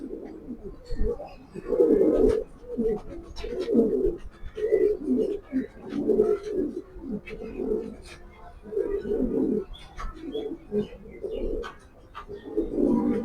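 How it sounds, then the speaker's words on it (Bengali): Racing pigeons cooing in repeated low, throaty bursts, close by and fairly loud, with a few brief chirps between the calls. "এখন ছেড়ে দেখাচ্ছি কবুতরটা"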